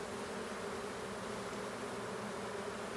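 Honeybees buzzing at a beehive, a dense continuous drone of many insects close by, steady and fairly faint, with no voices.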